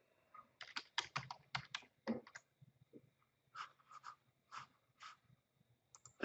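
Quick bursts of computer keyboard typing in a quiet room, close and crisp, with short pauses between groups of keystrokes.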